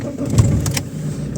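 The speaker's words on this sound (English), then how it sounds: "So starting the engine." An Alfa Romeo 159 with charging-system electrical faults starts up, a short burst of engine noise close by, alone without talk.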